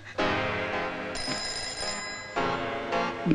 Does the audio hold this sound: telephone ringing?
yes